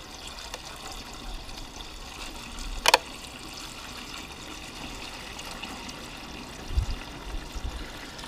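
Fuel pours from a canister of about 25 litres in a long, steady liquid trickle with a brief gurgle and knock partway through, close and moderately quiet.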